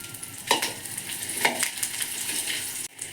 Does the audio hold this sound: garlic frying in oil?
yes